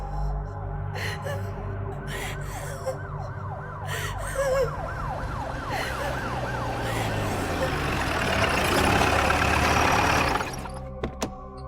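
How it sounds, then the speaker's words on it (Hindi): A police jeep siren wails in rising and falling sweeps, growing louder as it approaches, alongside a gasp and background noise. "तभी उसे पुलिस की जीप की सायरन सुनाई दी"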